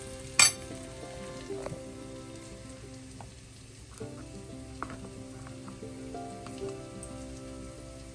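Onions frying in a pan for a spicy Kerala-style fish curry give a steady, close sizzle with crackles and one sharp pop near the start, and no talking.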